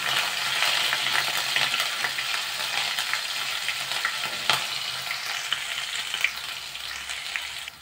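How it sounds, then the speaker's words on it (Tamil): Cumin, ginger garlic paste, green chilli and curry leaves stir-fried in hot oil for potato rice: a steady close sizzle with occasional spoon clinks and scrapes against the pan, no talking. "ஒரு வாட்டி மிக்ஸ் பண்ணிடலாம்"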